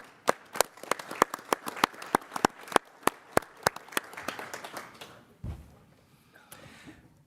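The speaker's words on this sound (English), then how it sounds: "Let's have a round of applause for Daniel." Applause from a standing audience at a city Common Council meeting: sharp, loud, separate claps in a quick run for about five seconds, then fading into quiet room noise and a thump.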